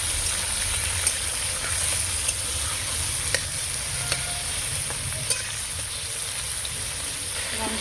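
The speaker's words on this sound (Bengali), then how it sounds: "চিকেনটাকে ভালো করে ভেজে নেবো" Chicken frying in a pan with browned onions, a steady crackling sizzle throughout with light clinks and scrapes of a spoon stirring at intervals, close and moderately loud.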